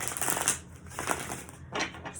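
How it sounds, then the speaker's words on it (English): Tarot cards are shuffled in soft, continuous riffling bursts of papery rustle, close and fairly quiet, with no talking. "Just going to shuffle a bit and we'll start pulling."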